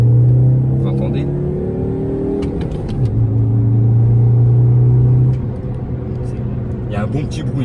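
A Mini One R50's engine and exhaust rumble steadily from inside while driving, with the low drone shifting in pitch as the engine changes speed.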